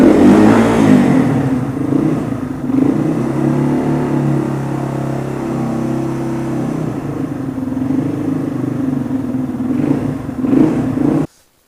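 A dual sport motorcycle engine runs close by with a steady low, rough idle, rising briefly in revs near the start and end before cutting off abruptly.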